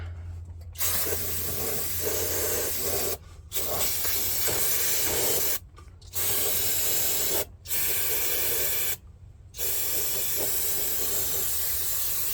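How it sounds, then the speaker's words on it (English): Brake parts cleaner hisses out of an aerosol can onto an engine mount mating surface on a 2014 Ford Edge Limited, in several loud sustained bursts separated by short pauses. "The good thing about brake parts cleaner, more especially in this part, is it takes a bit of rust off as well"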